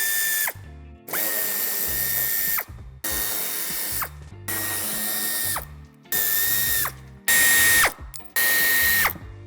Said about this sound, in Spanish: A ambos lados del pase de ruedas aflojaremos un tornillo que nos sujeta justamente a la esquina